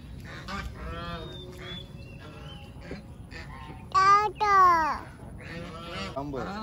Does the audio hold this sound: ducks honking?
yes